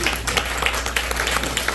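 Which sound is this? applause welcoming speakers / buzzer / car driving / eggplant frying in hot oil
applause welcoming speakers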